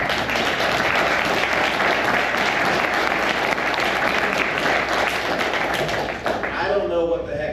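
A conference audience applauds Jack Owens for compiling a set of books. The clapping is steady, dense and loud, holding throughout before thinning out at the very end.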